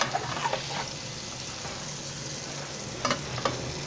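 Chicken sautéing in a large spoonful of country ghee gives a steady, close frying sizzle with a few brief stirring scrapes and clinks, heard alone without talk.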